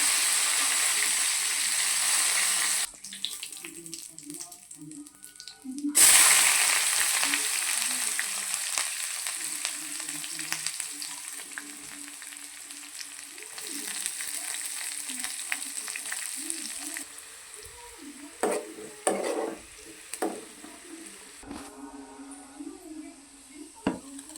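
Mustard seeds, cumin and curry leaves fry in hot oil for a tempering, a steady close sizzle and crackle that drops out briefly and then resumes. Stirring and scraping sounds run through it.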